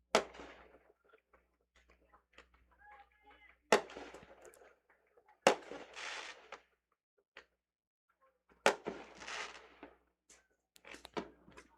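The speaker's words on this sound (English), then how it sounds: "We're going to try to talk over all these fireworks. Just going off constantly" Fireworks bursting outdoors on a July 4th night at a minor-league baseball game, loud sharp cracks and booms arriving every few seconds with crackling tails between them, no talk over them.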